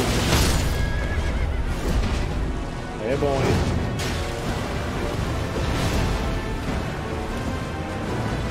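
A horse neighing loudly as it dies in the video game Elden Ring, a sharp whinny over game combat noise and explosive impacts, with a voice talking briefly.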